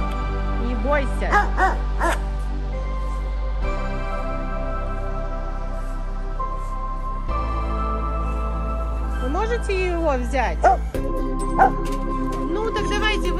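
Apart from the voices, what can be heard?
dog barking in a village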